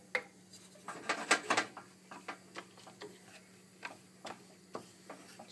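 Spoon scraping and clinking against a pot as risotto rice for Risotto Milanese is slowly stirred, a steady series of soft ticks and taps with a faint hum underneath.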